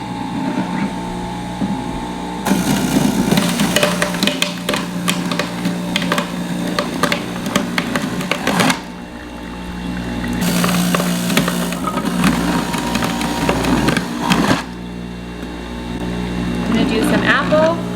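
A Jack LaLanne Power Juicer motor whirs loudly as large carrots are fed through, with bursts of grinding and crunching that stop and restart in two or three long runs over a steady motor hum.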